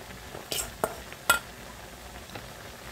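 Pangas fish heads being stirred into a spice masala in a pan, heard as a few sharp utensil clinks and scrapes spaced apart against a quiet kitchen background.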